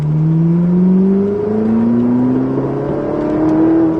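A Ferrari race car accelerates on a track, its engine note climbing steadily in long rising sweeps, loud and sustained with no voices over it.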